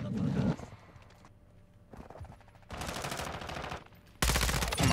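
The ISO 45 submachine gun in Modern Warfare 2 fires in fast bursts, with a long burst in the middle and another loud burst at the end, alternating with quieter gaps where someone talks.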